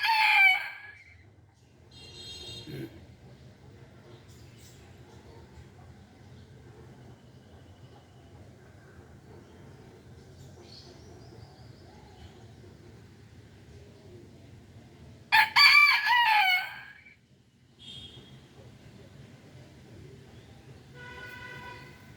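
A rooster crows twice, well apart, among caged chickens, over a steady low rumble in the background.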